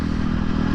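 Engine of a 2023 KTM 250 XC-F dirtbike on the street, a steady buzzing drone held at high revs for a brief moment, loud and close with a gritty, rattly edge and no voices.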